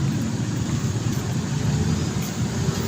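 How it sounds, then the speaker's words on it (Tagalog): Road traffic near the gate of Camp Aguinaldo along Boni Serrano, a dense continuous rumble of passing cars, loud and close, with no talking. "Traffic."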